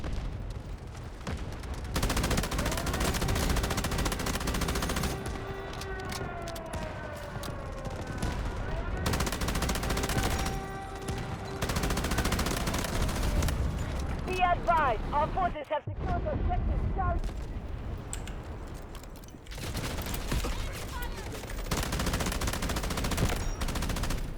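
M249 light machine gun firing in rapid sustained bursts in the shooter game Delta Force, loud and continuous with brief pauses, over game music and effects while a player talks.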